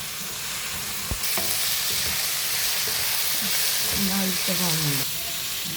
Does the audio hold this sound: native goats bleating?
no